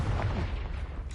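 Blasting-spell explosion in the video game Hogwarts Legacy, a short boomy burst with a rumbling low tail, loud and brief, with no talk.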